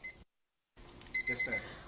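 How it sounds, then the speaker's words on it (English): A Turbo Cooker timer goes off with a quick series of high electronic beeps after a brief silence, layered over light kitchen clatter. "Okay, there's that timer."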